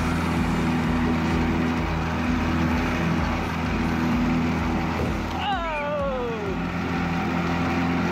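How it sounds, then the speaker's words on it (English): A 1958 Evinrude outboard motor runs steadily on a fishing boat heading out after paddlefish, a constant low engine drone throughout, with a brief squeaky whine sweeping down partway through. "1958 Evan Rude outboard"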